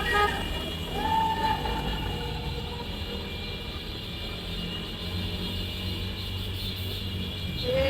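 Car horns honk briefly inside the Kaibiyang Tunnel over a loud, steady roar of traffic echoing off the tunnel walls.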